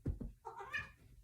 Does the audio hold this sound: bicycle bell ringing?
no